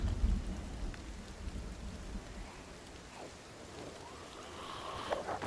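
Rain in the video game Project Zomboid, a steady hiss of falling water with low rumbles, heavier at the very start and then a softer, continuous downpour.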